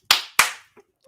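Two sharp hand claps ring out close together, followed by a faint tap and the onset of a third clap, each with a brief echoing decay.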